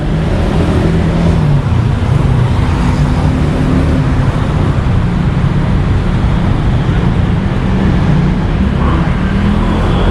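Busy street traffic on Silom Road in Bangkok, a dense continuous roar of passing cars and buses with low engine rumble, steady and loud throughout without pause, and no voices.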